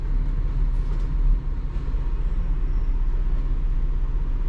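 A Battle garbage truck runs in a storage facility setting, its steady low engine rumble droning continuously at close range with no one speaking.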